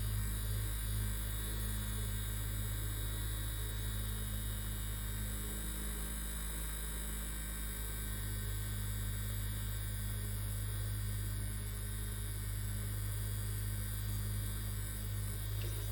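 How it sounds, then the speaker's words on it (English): A fan runs steadily to dry glue, giving a constant close hum and whirring drone with no breaks and nobody speaking. "get out the trusty fan, and you're going to dry it until the glue turns clear"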